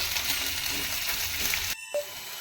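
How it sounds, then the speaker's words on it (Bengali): Onions frying in a pan during village cooking sizzle with a dense, crackling hiss close by, then cut off abruptly near the end, leaving a faint background. "পেঁয়াজটা ভাজা ভাজা হয়ে গেছে এর চাইতে বেশি আর ভাজা যাবে না"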